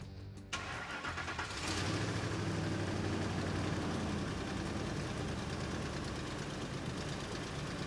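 A Ford F-150 cranks briefly and catches, then settles into a steady, fairly loud idle that holds without change, heard close with no talking.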